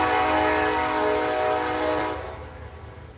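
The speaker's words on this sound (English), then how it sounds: "Excuse me about the train" A loud train horn blares in a long, steady blast nearby, then fades away over the final second as the train passes.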